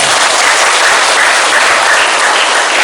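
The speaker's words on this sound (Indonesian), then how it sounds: "Aplaus untuk kita semuanya." Seminar audience at a National Teachers' Day education event breaks into dense, sustained applause, loud and steady throughout with no talking over it.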